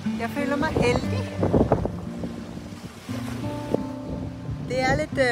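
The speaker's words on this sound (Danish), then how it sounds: "Det er lidt ruskende og stormende i dag, og Valter har også stået og gynget en masse" Stormy, gusty wind buffets the microphone in Iceland, with rough waves rumbling beneath it. The roar is loud and close and rises and falls in strong gusts, with brief voice-like sounds mixed in.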